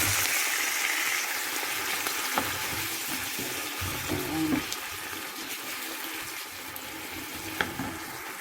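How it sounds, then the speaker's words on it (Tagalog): Water hits a hot pan of frying sea bass with tomato, setting off a steady, fairly loud hiss and sizzle with light clatters throughout, and no voices. "I love to put water on this pan."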